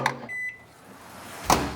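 A microwave oven holding nine bars of Ivory soap starts up: a short beep tone, then a low steady hum of the oven running, closing with a louder clunk or rustle at the end.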